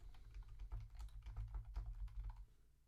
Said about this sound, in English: We start by typing a subject.